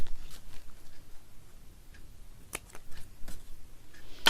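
Scissors snipping thread on a handmade book page, a few sharp, close clicks and snips scattered over quiet room tone, with no talking.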